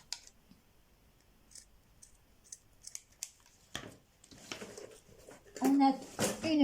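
Several crisp scissor snips cutting lace sound close by in a quiet room, followed by a speaking voice with more snipping mixed in.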